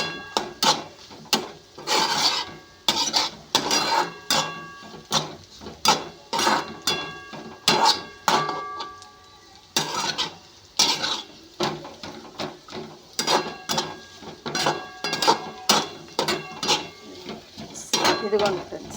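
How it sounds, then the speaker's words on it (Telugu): Fried rice being stirred and mixed in a pan, giving a steady run of sharp metal-on-metal spoon scrapes and clanks in quick repeated bursts, close and fairly loud, with no talk. "కలుపుకోవాలి ఫ్రెండ్స్."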